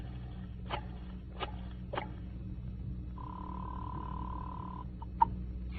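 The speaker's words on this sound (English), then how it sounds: "without looking at the phone, I dialed 7 times." A telephone dial or keypad is worked several times in succession: faint clicks spaced across the first seconds, then a steady dial tone, all quiet and close.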